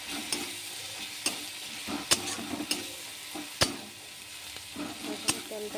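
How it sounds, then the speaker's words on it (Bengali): A frying pan of masala with turmeric powder is stirred, giving a soft, continuous sizzle broken by repeated sharp scrapes and taps of a spatula at an irregular rhythm. "তারপরে হলুদ গুঁড়া দিব, ভালো করে নাড়বো"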